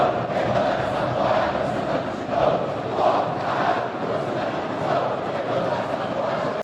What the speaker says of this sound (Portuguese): Uma torcida canta, a outra responde.